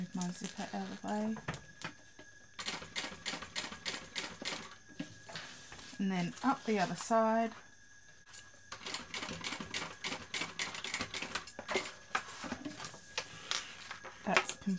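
A sewing machine top stitches a BeHip 2.0 bag lining in quick rattling bursts that stop and restart, with someone talking briefly during the pauses.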